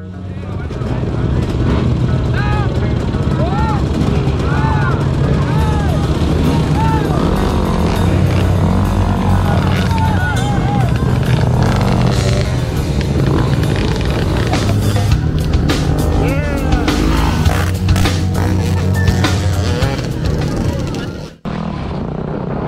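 Enduro dirt bikes gathered on a race starting line at Moc Chau, engines droning loud and steady with revving whines rising and falling throughout, a crowd of voices beneath, then a sharp cut near the end.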